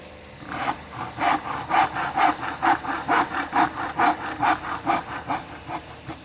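A handsaw cutting wood for a phone holder, with rhythmic back-and-forth rasping strokes at a steady quick pace, loud and close, with no voices.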